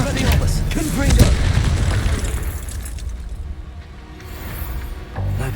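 A Confringo blast spell explodes in the Hogwarts Legacy game, a loud booming burst followed by a rumbling decay, with spoken spell incantations around it.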